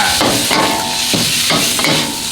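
Pork belly stir-frying in oil with chili and salt, a loud steady sizzle broken by repeated scraping strokes of a utensil against the pan, close and continuous.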